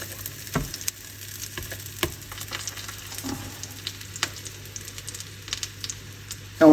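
Homemade cordon bleu sizzles in a pan just after being turned over, a steady close frying hiss dotted with small crackles and pops, with no talking.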